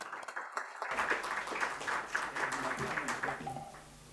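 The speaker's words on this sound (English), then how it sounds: "big round of applause." Audience applause at an annual business conclave, clapping swelling after a brief quiet start and then tapering off toward the end, moderately loud.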